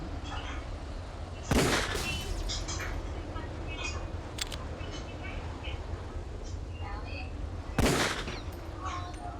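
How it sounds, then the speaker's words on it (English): Gunshots shooting out lights in Metal Gear Solid: The Twin Snakes, two loud sharp bangs several seconds apart, with game sounds and a voice speaking between them. "Oh, shooting the wrong lights."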